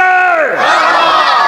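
A religious gathering's crowd shouts "Marhaba" in unison, a loud sustained chorus of many voices rising and swelling for about a second and a half.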